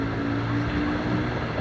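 A Yamaha FZ25 motorcycle engine pulls hard just after shifting into third gear, giving a steady, loud drone with wind rush over the microphone and no speech.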